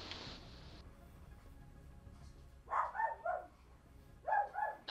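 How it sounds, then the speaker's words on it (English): A tiny dog barks somewhere off in the background of a Black Ops 3 multiplayer session, giving a few short, faint yaps in two quick bursts. "Oh yeah, that is a dog."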